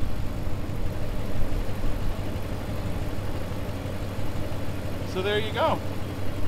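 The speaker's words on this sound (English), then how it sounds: "The truck is running fine." A truck engine idling to charge a Jackery power station, a steady low rumble heard under a voice, with a short higher chirp near the end.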